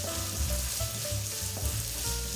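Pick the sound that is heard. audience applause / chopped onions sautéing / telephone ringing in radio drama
chopped onions sautéing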